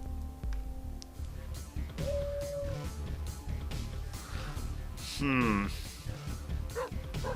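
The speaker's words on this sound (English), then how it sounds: "we get the bark here again" Cartoonish dog barks from The Binding of Isaac: Afterbirth+ video game, a few short yips and bow-wows mixed with busy game music and effects, with a voice talking over them.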